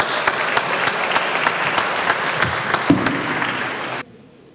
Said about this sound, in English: One more final round of applause for our two-year candidates.